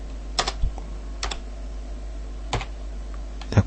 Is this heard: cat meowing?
no